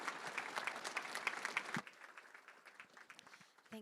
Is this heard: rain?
no